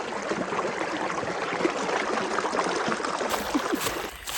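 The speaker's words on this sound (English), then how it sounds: "that waterfall creek." Waterfall creek on a mountain trail during a drought, a steady close wash of flowing, trickling water with a brief clatter near the end.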